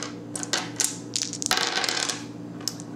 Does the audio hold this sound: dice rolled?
yes